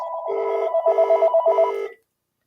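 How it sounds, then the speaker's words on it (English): Incoming phone call ringing: three clear electronic ring bursts with a warbling tone, loud and close, repeating evenly before stopping, with no voices over it. "I got a phone call coming in real quick."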